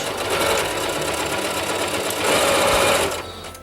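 Sewing machine stitching and backstitching the final seam of a fabric cat mat, a steady continuous motor whir that runs loud and unbroken, briefly shifting pitch as the stitch direction reverses.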